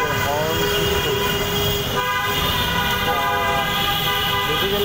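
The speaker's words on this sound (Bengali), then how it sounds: "আমি আমার বাইকের হর্ন ঠিক করি।" A repaired motorbike horn honks in steady, loud tones amid heavy street traffic in Dhaka, Mirpur 10 area, with road noise filling the background.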